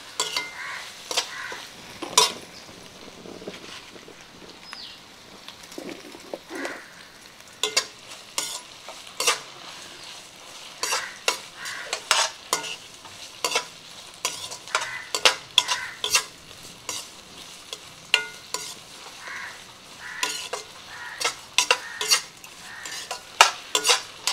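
Tomatoes and onions, lightly salted, sautéed in a pan while a spoon stirs them, giving a long run of sharp scraping clinks over a steady frying sizzle, close and fairly loud, with no talk.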